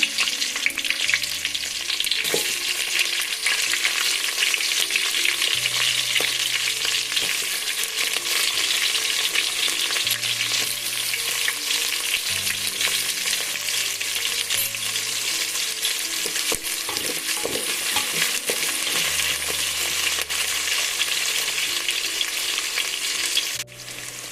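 Sliced onion fries in hot oil with mustard seeds and cumin, giving a steady loud sizzle with faint stirring scrapes and clinks throughout.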